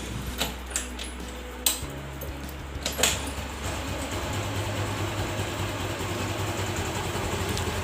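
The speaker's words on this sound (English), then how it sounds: "Let's start the engine." Car engine cranks with a few clicks and clunks, then catches and settles into a steady, moderately loud idle, warm after a 10 km drive, ahead of carburetor idle and mixture screw adjustment.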